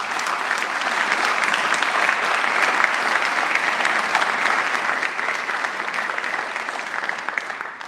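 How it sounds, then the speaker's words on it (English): Audience applause for award recipients at a school honors night, a sustained, full round of clapping from a sizable crowd that stays strong and eases only slightly toward the end. "Let's give them one more round of applause."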